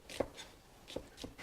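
A knife chops quickly through portobello mushrooms on a cutting board, giving three or four sharp, quiet taps with short gaps between them.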